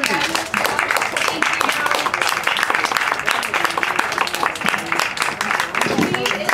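A cooking-class audience applauds Julie with a sustained round of dense, fairly close clapping that fills the whole stretch, a little talk mixed in underneath.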